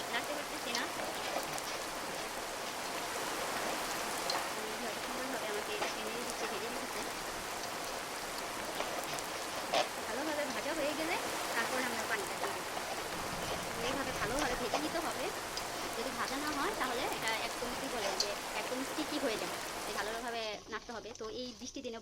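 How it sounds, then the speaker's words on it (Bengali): Heavy rain falling outside during a rainy day, a dense continuous hiss and patter on surfaces that holds steady for the whole stretch, with a few faint household clatters mixed in. "বাইরে খুব পরিমাণ বৃষ্টি হচ্ছে এত পরিমাণ বৃষ্টি হচ্ছে"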